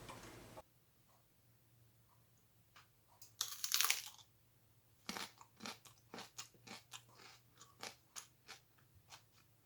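A sharp crunchy bite into a raw sunchoke, then a run of steady crisp chewing crunches, close up and fairly loud, with no talking.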